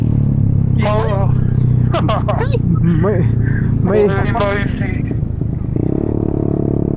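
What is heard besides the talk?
scooter riding in city stop-and-go traffic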